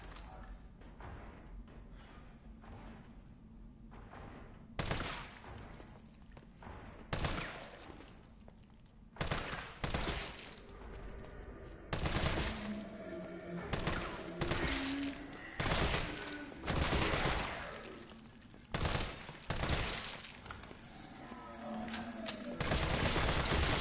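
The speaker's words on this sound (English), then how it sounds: "Good lord, this assault rifle's weak." Assault rifle fire in Resident Evil 3, loud repeated bursts and single shots with heavy thuds, fairly weak-sounding weapon, spaced in uneven clusters with quieter gaps between volleys.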